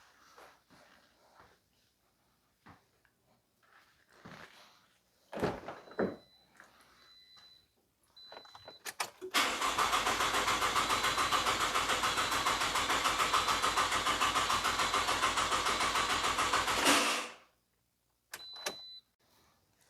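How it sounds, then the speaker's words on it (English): A 2009 Pontiac Vibe GT 2.4 engine, just fitted with a replacement oil pan, cranks over loudly and steadily for about eight seconds and then stops, with faint clicks and shuffling beforehand. "Now I'm going to crank the engine over again."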